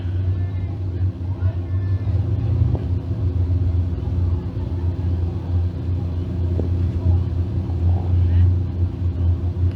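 Sprint cars with 602 crate engines idle and rumble in a low, steady drone at Can-Am Speedway before a night heat race, with a commentator's voice over the engines.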